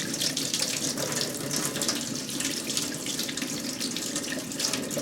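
Hot water runs from a kitchen tap in a steady, hissing stream, close and constant, with no voices.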